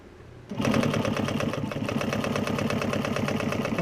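A Juki walking foot sewing machine starts up and stitches upholstery material at a short stitch length, a rapid mechanical chatter with a steady rhythmic knock, close and continuous.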